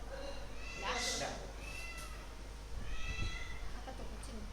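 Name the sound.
cat meowing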